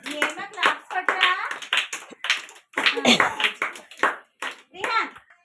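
Small children at an Anganwadi preschool clapping their hands in short uneven bursts while kids' and adults' voices chatter over and between the claps.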